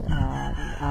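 A rooster crows loudly and close by, a single drawn-out crow that fills the whole moment.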